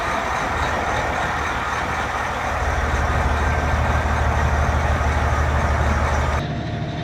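A Cat 730-horsepower dump truck engine idles with a steady, heavy low rumble and broadband mechanical roar, holding constant before the tone shifts slightly near the end; no voices.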